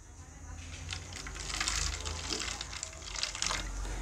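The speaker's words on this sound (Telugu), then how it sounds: "ఈ విధంగా వినిగర్ పోసేయండి కొద్దిగా" White vinegar poured into a glass of water, a steady close liquid trickle and splash running for several seconds, swelling slightly louder toward the middle and end, with no one talking.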